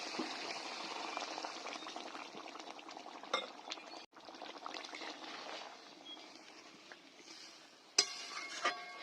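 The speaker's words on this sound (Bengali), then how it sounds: "আরো ঢাকনা দিয়ে ভালো করে ফুটিয়ে নিচ্ছি।" Chicken masala bubbling in a covered pan with a little added water, a steady simmering hiss and crackle running throughout, with a couple of sharp clicks and knocks of the lid or pan near the end.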